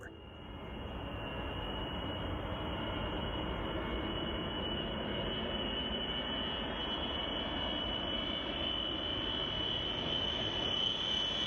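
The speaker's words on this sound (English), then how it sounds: "The IL-62 cargo plane used up the entire runway before the pilots finally raised the nose" An Ilyushin IL-62 cargo jet roars steadily at full power on its takeoff run, a broad rumbling engine noise with a high whine above it, building slightly as it goes.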